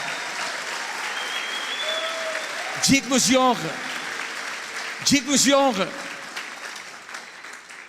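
A church congregation applauds at a conference service, sustained clapping throughout, interrupted twice by a voice chanting over it.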